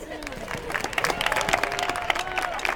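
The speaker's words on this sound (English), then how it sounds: "Thanks to whoever started the slow clap." Slow, rhythmic audience clapping fills a Q&A session at a Fort Wayne concert event, a crowd beating out steady claps with a murmur of voices and some cheering mixed in.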